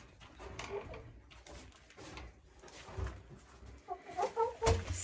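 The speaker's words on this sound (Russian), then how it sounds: "Хочу посмотреть, как разместились амирауканы." Ameraucana chickens roost on their perches in a coop, softly clucking and murmuring nearby, with a few louder clucks and calls rising toward the end.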